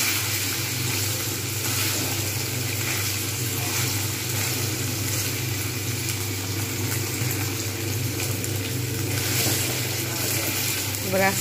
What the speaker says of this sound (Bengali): তাও আমি আর একটু ভাজবো ভালো করে